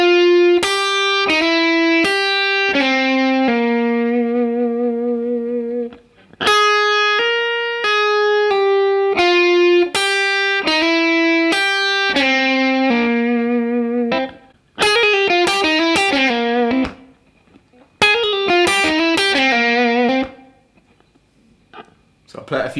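Jazz blues lick on guitar played slowly, with clear single picked notes in repeated phrases and short pauses between them, close and clean, with no voices.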